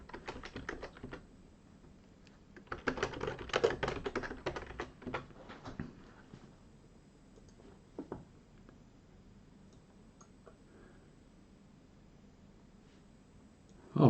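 Keys clatter on a computer keyboard nearby, starting with a short burst, then a dense flurry of rapid typing for a few seconds, followed by sparse isolated clicks and near silence.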